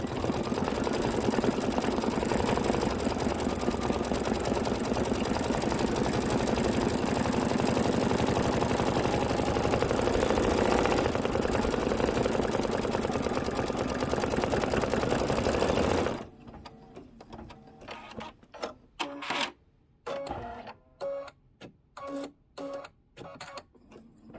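An embroidery machine stitches out a storybook pocket pillow design in a fast, steady mechanical whir for about sixteen seconds, then slows into intermittent bursts of stitching with short pauses between, close-miked and moderate.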